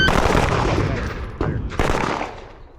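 Pistol shots fired during a practical shooting drill: a loud, dense burst of reports at the start, then two sharp separate shots a moment apart, all ringing out close and outdoors-like with no talk.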